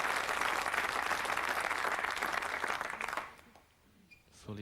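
A snooker crowd applauds a shot, a dense burst of clapping lasting about three seconds before quickly dying away to near quiet, with a faint voice returning at the very end.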